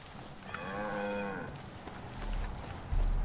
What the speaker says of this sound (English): These cows?